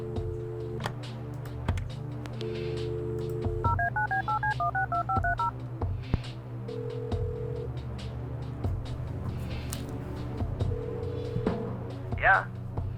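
In the adventure video game Kathy Rain, a telephone number is dialed as a quick run of about a dozen evenly spaced keypad tones, set among game sounds and spoken dialogue.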